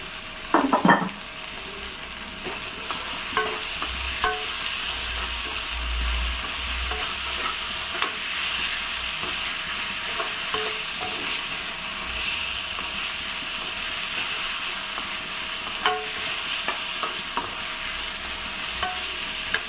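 Tomatoes sautéing in a pan for a white pea curry, a continuous close sizzle and hiss with occasional clinks and scrapes of a stirring spoon, no talking.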